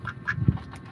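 A duck gives a couple of short, nasal quacks close by, the loudest one in the middle of a brief burst.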